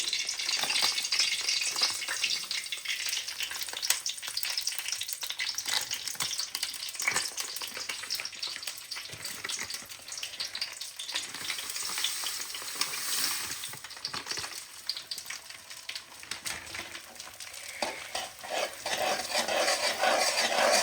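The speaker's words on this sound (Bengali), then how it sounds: "আবারও একটু ঘিটা গরম করে নেব তারপরে দিয়ে দেব হচ্ছে সুজি" Semolina fries in hot ghee mixed half and half with white oil, a dense continuous sizzle close by with occasional stirring and pan clinks, no talking.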